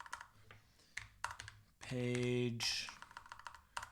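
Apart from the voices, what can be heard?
typing a prompt into ChatGPT on a computer keyboard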